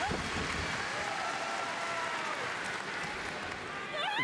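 Wrestling crowd clapping in an arena, a fairly faint, continuous wash of applause, with a commentator's voice over it.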